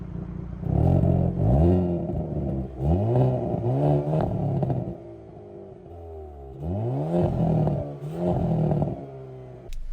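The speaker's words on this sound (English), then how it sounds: "let's take a look at that exhaust sound" A Hyundai Kona N performance SUV revs its engine in two bursts, the exhaust rising sharply and crackling on each throttle blip, then falling back to a rumbling idle between them, close and loud with no talking.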